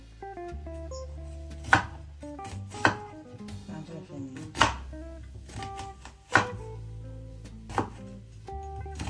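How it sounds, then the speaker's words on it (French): A knife chops onions into fine small pieces on a board, giving sharp, close, distinct knocks spaced about a second apart over a quiet background, with musical tones underneath. "on va donc venir découper nos oignons en fines, en petits morceaux, de manière très fin."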